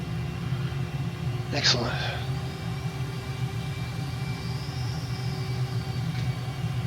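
MiG-29 Fulcrum jet rolling out on the runway after landing with its drag chute deployed, a steady low engine rumble throughout with a brief spoken word over it.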